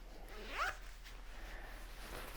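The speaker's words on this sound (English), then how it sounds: "So we got these hand warming pockets here, the little zipper with the rubber pole" A small zipper with a rubber pull on the hand-warming pocket of a Patagonia DAS Parka is drawn once, quick and close. The zip is short and scratchy over a faint, steady low hum, with no voices.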